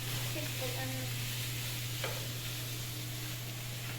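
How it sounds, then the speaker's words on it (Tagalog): Snow peas are tossed and stirred into pansit noodles in a frying pan, a soft, steady scraping over a constant quiet sizzle, near and uninterrupted, with only a faint hint of voices in the room. "Ihalo, last natin ihalo yung chicharo"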